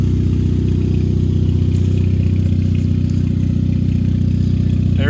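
A circle track race car engine idles steadily and loudly, a continuous low rumble with a faint rising whine near the end.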